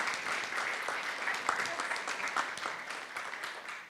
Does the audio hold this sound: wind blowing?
no